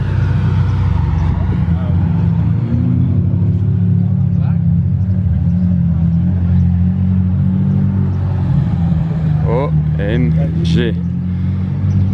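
A white McLaren Senna supercar comes up from behind, its loud, steady engine rumble dominating throughout, while a person talks and exclaims over it.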